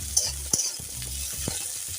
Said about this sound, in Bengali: আমি এখন উচ্ছেগুলো দিয়ে ভালো করে ভেজে নেব